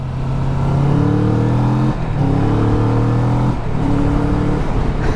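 A car accelerates hard on a wet road, its engine revving through rising tones with brief dips between gears, loud and close, and the rear tire briefly slides out.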